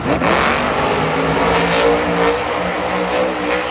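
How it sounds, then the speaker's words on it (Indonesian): A toy monster truck gives off a continuous revving engine sound, loud and close, with the pitch wavering up and down over a few seconds. "Wow, lihat, ada mobil monster."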